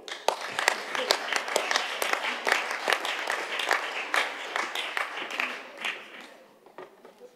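Scattered applause rises in a French municipal council chamber for a deputy mayor, moderate clapping with distinct individual claps that gradually fades out.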